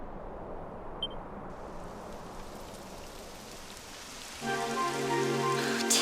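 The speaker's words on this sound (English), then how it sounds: "It would have to go and start raining, wouldn't it?" Steady rain pattering on a surface in the video game Dragon Quest XI, a soft continuous hiss; partway through, a louder tonal sound with a ringing hum joins in.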